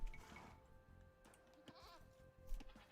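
Goats bleat in a video game, a couple of short wavering calls over a faint game backdrop.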